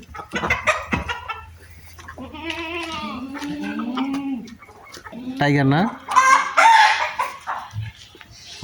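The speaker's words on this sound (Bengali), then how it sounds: "এখানে কিছু উন্নত জাতের মুরগি রাখা আছে" Improved-breed chickens on an integrated farm cluck and a rooster crows loudly up close, with goat bleats mixed in and a brief spoken remark among the calls.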